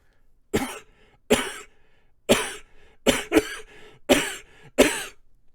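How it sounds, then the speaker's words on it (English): Seven sharp, separate coughs at fairly even intervals, a couple coming in quick pairs, close and clear against quiet. "Oh, you know that cough."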